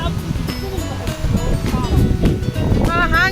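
Strong, cold wind gusting on a nature trail, a steady broadband roar that rises and falls under excited voices talking and calling out.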